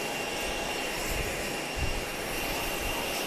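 A fixed-wing plane's engine at Grand Cayman airport, a steady broad rumbling roar at moderate distance with slight low-end swells, no speech.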